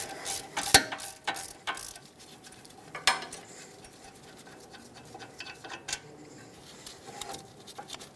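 A socket ratchet breaks loose and backs out the caliper bracket bolts on the front brakes of a 2013-2018 Hyundai Santa Fe, with quiet clicking pawl strokes and a few sharper metallic ticks close by.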